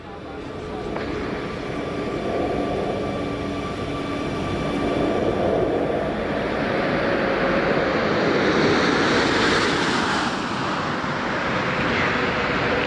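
Space Shuttle Atlantis flying in to land, pulling level out of its dive, a broad steady roaring rush swelling slightly and holding throughout, distant and continuous, with a commentator talking over it.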